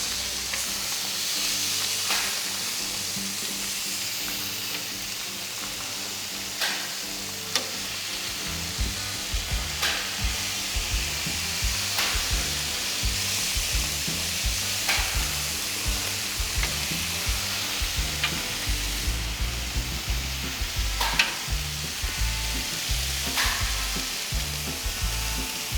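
Pork chops sizzle steadily in a hot frying pan, with soft clicks and scrapes as pieces are flipped every few seconds over the continuous frying hiss.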